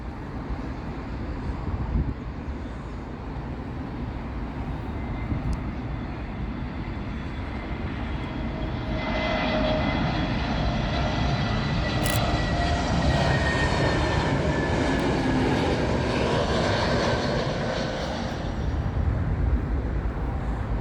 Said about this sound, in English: another British Airways flight, this time an A321neo. This one arriving from Belgrade.